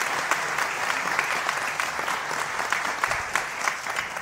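A conference audience applauds a panel at the close of an Offshore Europe session. The applause is dense, continuous and steady, with many hands clapping throughout and no talk over it.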